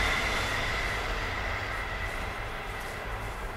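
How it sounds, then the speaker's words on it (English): A train passing by outdoors, a continuous rolling rumble with a faint high squeal, steady and fairly loud throughout with no talking. "It's a train passing by."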